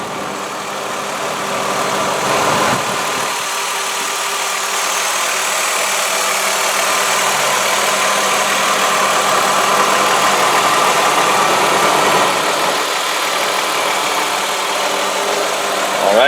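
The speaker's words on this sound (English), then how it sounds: "let you guys listen to this idle as we little pan around and you can check the engine" A 2003 Ford Escape XLT 4X4 engine idling up close, a steady, loud, even hum with a faint mechanical rattle that continues unchanged for the whole stretch.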